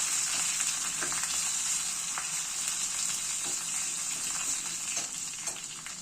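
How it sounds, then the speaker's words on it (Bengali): Garlic sizzles steadily in hot oil with whole cumin for a lasooni dahi tadka, a dense continuous crackle with a few small pops, close and even throughout with no voices. "রসুনটা দিয়ে একটু ভেজে নেব।"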